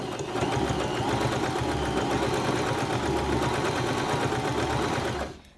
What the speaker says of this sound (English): I'm going to start here right at the edge of my fabric, go forward a little bit, back stitch, really press down on that back stitch button